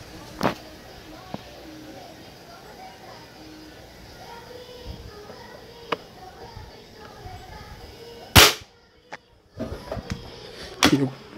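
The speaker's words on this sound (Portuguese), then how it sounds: "Finalmente o quinto disparo." Shots from a Jade Pro Nitro 5.5 air rifle carbine in a ten-metre grouping test outdoors on a windy day, heard as sharp isolated cracks spread through the clip over steady wind and birds.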